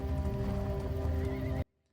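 A horse whinnies loudly in a Game of Thrones scene, with hoof clip-clops in the background before the sound cuts off abruptly.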